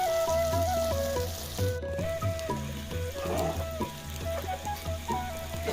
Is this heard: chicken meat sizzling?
yes